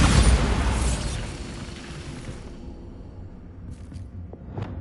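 A Bombarda spell explosion in Hogwarts Legacy on PS5 opens with a loud, broad blast that decays into a rumbling, crackling tail, with a couple of faint pops near the end.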